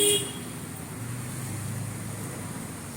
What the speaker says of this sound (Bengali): বাস যাচ্ছে